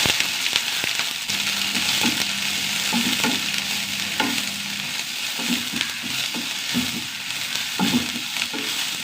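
Mustard seeds, green chilli and onion fry in coconut oil in a pan, giving a steady close sizzle with stirring scrapes and a few sharp crackles and pops, with no talk.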